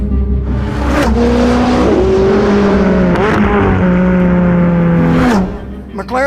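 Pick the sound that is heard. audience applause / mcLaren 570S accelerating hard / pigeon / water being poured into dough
mcLaren 570S accelerating hard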